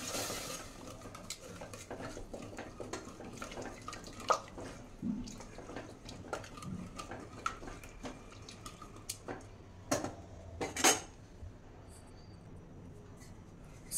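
A spoon stirs paneer with red chilli powder and coriander-cumin powder in a bowl for a paneer biryani, giving repeated soft scraping and clinking strokes, close and fairly quiet, with no talk.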